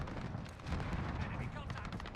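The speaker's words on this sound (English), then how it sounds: "Allied cluster strike inbound." Cluster strike explosions in a Modern Warfare match rumble as a dense, continuous barrage of distant blasts and gunfire, steady and moderately loud throughout.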